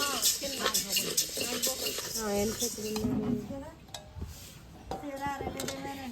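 Maida and semolina stirred in a pan for Sankranti sweets in Konaseema, a spatula scraping and clinking steadily against the metal, with voices talking over the stirring.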